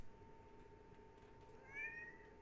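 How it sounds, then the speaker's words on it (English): A cat gives a single short meow near the end, faint against a steady low background hum. "I just heard it. That cat being a little baller."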